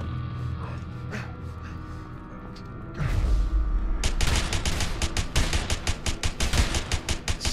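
Gunfire in the video game A Way Out: after a quiet, murmuring stretch, a heavy thud lands, then a rapid string of sharp, loud shots crackles on in close succession until the end.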